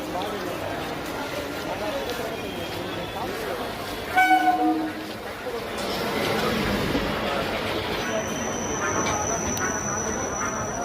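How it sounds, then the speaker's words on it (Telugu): A suburban train on the Tambaram to Chennai Beach line pulls into a busy station at night, with a short horn burst, rolling rumble and later a long high whistle tone amid crowd noise. "ట్రైన్ వస్తుంది చూడండి. ఈ ట్రైన్ తామరం నుంచి చెన్నై బీచ్ కి అయితే పోతుంది."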